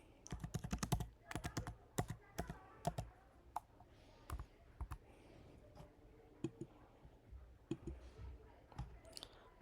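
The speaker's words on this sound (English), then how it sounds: "or simply you can type it here" Steady clicking of keys typed on a computer keyboard, close and fairly loud, in quick bursts with short pauses, with no voices over it.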